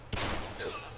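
Gunfire in the VR shooter Half-Life VR (Lambda1VR), a sudden loud burst after a quiet moment that carries on as sustained, rattling fire through the second.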